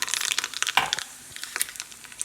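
Mustard seeds splutter in hot coconut oil, a close run of sharp, irregular crackles and pops that come thickest at the start and thin out toward the end.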